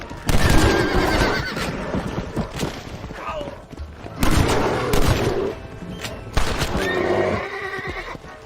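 Repeated gunshots fired at a bear in the Red Dead Redemption western game, mixed with loud horse neighs and hoofbeats. Several bursts of shooting come over a few seconds while voices talk under the commotion.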